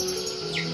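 A young wild-caught Tledekan bird gives a single short, high chirp over a steady background hum.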